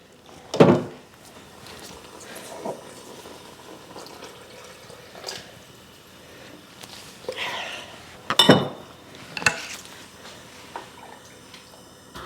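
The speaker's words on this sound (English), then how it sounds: "now I'm adding the juices from the meat with that little bit of fat" Meat juices and a little fat are poured into a thickening sauce in a cooking pan, giving two short splashy pours several seconds apart, with light clinks and drips in a quiet kitchen between them.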